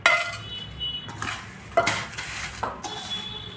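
Poha chivda is stirred in a metal kadhai, with repeated clinks and scrapes of a spoon against the pan in an irregular rhythm, close and fairly crisp over a faint sizzle.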